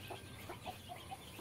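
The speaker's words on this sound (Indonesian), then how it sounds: "Nah, ini ayam-ayam induk." Soft, faint clucks of free-range village hens repeat in a loose rhythm over low background noise, on a traditional poultry farm.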